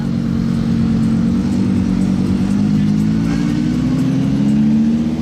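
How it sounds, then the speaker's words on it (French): A Porsche GT3 RS engine drones loudly and steadily nearby, its pitch rising slightly as it accelerates past. "Effectivement, vous avez entendu la Porsche."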